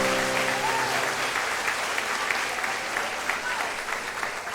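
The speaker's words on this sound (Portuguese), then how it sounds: "Aplauda ao Senhor, digno de glória, aleluia." A church congregation claps steadily in praise during a sermon, a dense even wash of applause with a faint voice over it.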